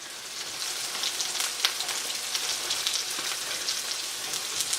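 Blanched tomatoes cook in hot oil for a paneer tikka masala gravy, giving a steady, close sizzle and fine crackling spatter that runs unbroken throughout without any voices.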